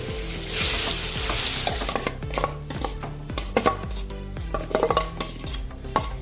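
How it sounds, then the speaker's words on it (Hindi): Cumin and spices sizzle steadily in a hot pan while a spoon stirs and scrapes in short, repeated strokes, with occasional metallic clinks against the pan. "जीरा हो गया है, जो अपना मसाला है बचा हुआ वो इसमें डाल देंगे।"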